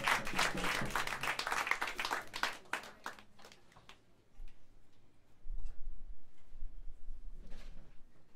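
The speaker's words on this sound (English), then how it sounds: "Big round of applause for the incredible Steve Nelson." Jazz club audience applause at a live quartet show in New York City, dense clapping and cheering that thins out after a few seconds into scattered claps and room noise, then a brief swell.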